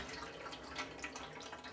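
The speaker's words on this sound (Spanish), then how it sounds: "ahora hay que tirar el agua" Soaking water being poured out from a bowl of dried tomatoes, a faint, steady splashing trickle lasting under two seconds.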